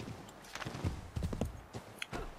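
Horse hooves clip-clop in a quick, uneven rhythm while riding in Assassin's Creed III, fairly close and moderately loud, with brief breaks between runs of hoofbeats.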